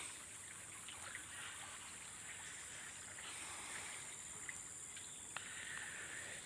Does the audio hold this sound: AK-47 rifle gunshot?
no